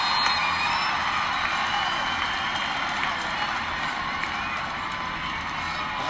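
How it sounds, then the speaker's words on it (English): A stadium crowd at Children's Mercy Park during a Kansas City Current women's soccer match in extra time gives a loud, sustained roar and cheering that fills the whole stretch without letup. "Crowd is into it here."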